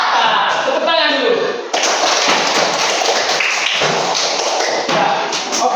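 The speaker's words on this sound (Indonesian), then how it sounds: "Tepuk tangan dulu." Schoolchildren in a classroom clap their hands together, a dense run of close, rapid claps and taps with voices mixed in underneath.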